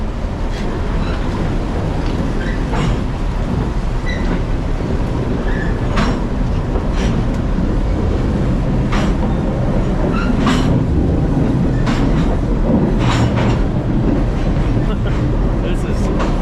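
A train rolls by nearby along a rail line near a creek, a loud continuous rumble and rattle with repeated clacking transients throughout.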